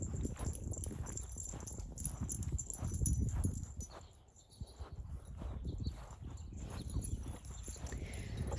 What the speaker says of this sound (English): Like my dog is walking over here now, following behind me.